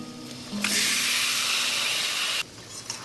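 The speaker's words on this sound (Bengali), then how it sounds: "এবার আমি ম্যারিনেট করা চিকেনটা এর মধ্যে দিয়ে দেব।" Marinated chicken hits a hot pan for chicken dak bungalow curry and erupts into a loud, close hiss of sizzling that holds steady for about two seconds, then cuts off abruptly.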